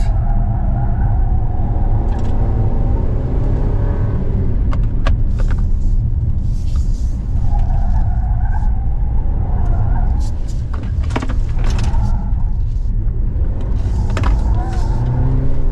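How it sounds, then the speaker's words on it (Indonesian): A large Chery SUV corners sharply and then accelerates hard with stability and traction control engaged, giving a steady loud engine and road rumble with tyre noise throughout, no voices. "Dan ketika kita lagi belok patah, kemudian kita gaspol"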